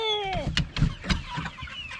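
A Cornish Cross meat chicken clucks close by in a short series of quick clucks and squawks, loud and clear with no talk.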